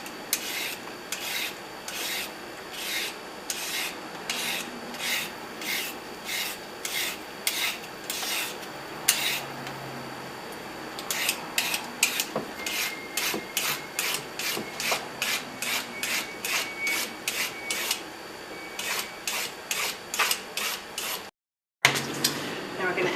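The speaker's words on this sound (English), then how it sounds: "now we're just going to shave strips of our carrot" Fresh carrot being shaved into strips for raw pad thai, heard as a steady run of rhythmic rasping strokes, close and fairly loud, with a brief pause near the end.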